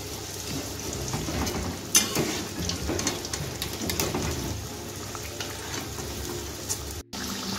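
Okra fritters frying in a pan of oil, a continuous crackling sizzle with scattered pops and one sharp clatter partway through, steady and close with no talking.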